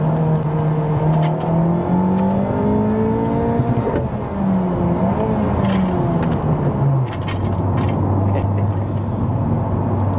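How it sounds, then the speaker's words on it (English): A Honda Civic Type R FK8 engine revs hard from inside the cabin, its pitch climbing through gears with drops at each shift, loud and continuous, with some talk partly over it. "Just revs and revs and revs."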